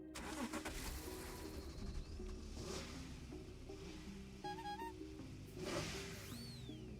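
A car engine turns over and runs in The Darkside Detective: A Fumble in the Dark, a mid-pitched mechanical rumble with game chimes and effects layered over it.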